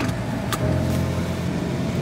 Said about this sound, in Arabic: خلينا الان نجرب السياره نطلع فيها نشوفها كيف الطريق